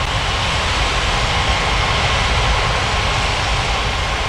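Airliner engine roaring during takeoff at an airport, a loud, steady broadband jet rumble heard close and unbroken, with no voices.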